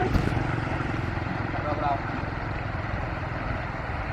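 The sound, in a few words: big tractor driving past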